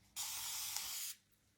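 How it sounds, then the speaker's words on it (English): A spray bottle mists water onto a heart pillow cover in one close, continuous hissing burst of about a second, with quiet room tone before and after. "I'm gonna start spraying them with water"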